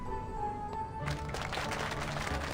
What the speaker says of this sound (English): as the applause and acclamation persists.